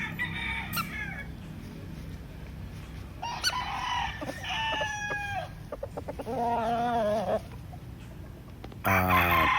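Yellow-legged Hatch gamefowl roosters crow repeatedly at close range, several harmonic calls overlapping with clucks and farmyard background, ending in a loud nearby crow.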